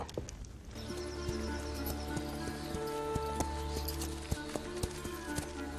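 Horse hooves clip-clopping steadily at a walk, moderately close, with faint background noise and occasional snorts.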